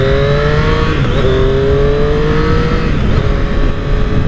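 Triumph Street Triple motorcycle in Carbon Black accelerating hard, its engine note climbing through gear changes with a steady loud roar and rising harmonic sweeps throughout.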